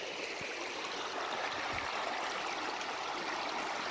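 Water rushing through a broken beaver dam after heavy rain, a steady close hiss of flowing stream water with a few faint knocks.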